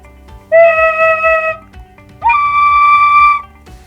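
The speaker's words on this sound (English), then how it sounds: "A penny whistle changes the wavelength by uncovering specific holes" Two sustained penny whistle notes, each held about a second, the second pitched higher, clear and loud with a pure breathy tone.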